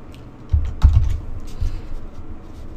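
A few brief clusters of computer keyboard key presses as a file name is typed, close and fairly soft, with quiet pauses between bursts.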